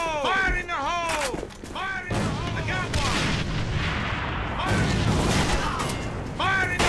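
A grenade explosion and gunfire in the shooter AVA, with loud booming blasts and shots while a voice shouts over the action.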